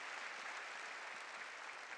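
Church congregation applauding steadily throughout, a dense, continuous wash of many hands clapping at once, even in level with no gaps, heard from within a large gathering at a New Year blessing revival service.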